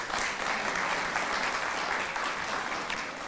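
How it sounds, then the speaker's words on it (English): Steady, dense applause fills a hall at a volunteer awards ceremony for the Philadelphia chapter, loud and continuous throughout with no pauses. "All right, another round of applause for the Philadelphia chapter."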